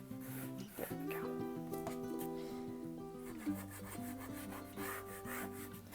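A pencil scratches and rubs across paper while an electric guitar is drawn freehand, soft irregular strokes heard up close, with a faint steady musical tone running underneath.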